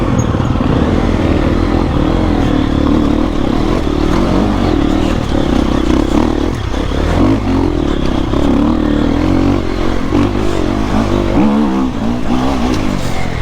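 Enduro motorcycle ridden off-road in light rain, its engine droning steadily and revving throughout with a dense, rough roar, close and loud from start to finish.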